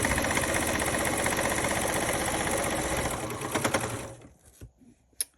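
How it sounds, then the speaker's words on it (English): Sewing machine stitching fabric at a fast, even rhythm, a close mechanical whir for about four seconds that then stops, leaving a few scattered soft clunks and handling sounds. "we are going to just stitch this right now and check how that worked"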